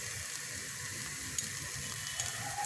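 Butter melting in a pan of chicken tikka boti, giving a steady, fairly loud hiss and sizzle with faint crackles throughout, and no one speaking.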